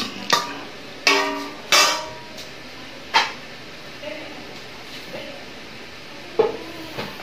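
Pork liver sizzling in a pan for a sotanghon soup, with sharp intermittent clanks and scrapes of stirring over a soft steady sizzle; no one speaks.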